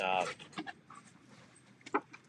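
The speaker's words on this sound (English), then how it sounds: "my dog's going nuts." A dog excitedly panting and whimpering nearby, with a brief high whine at the start followed by quick, breathy pants in short bursts.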